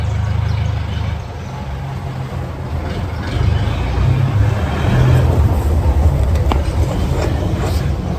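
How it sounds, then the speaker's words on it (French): A heavy truck rumbles past on a road in Bahia, Brazil, a steady low engine roar that swells toward the middle and stays loud and close to the end, with no talk over it. "Ça, c'est du camion."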